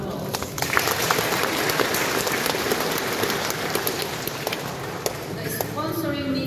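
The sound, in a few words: church congregation applause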